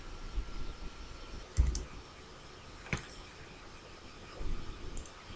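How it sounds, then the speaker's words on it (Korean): A couple of quiet computer keyboard key presses for a Ctrl+S save shortcut, soft isolated clicks with gaps between them and no talking. "컨트롤 S 눌러서 답안 파일 저장하도록 합니다"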